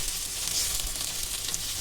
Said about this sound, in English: Still I'm just frying it like that only without any oil